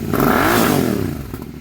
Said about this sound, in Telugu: నియర్ బై స్టాక్ సైలెన్సర్ లా వినిపిస్తుంది, కాకపోతే కొద్దిగా వాయిస్ అనేది హెవీగా ఉంది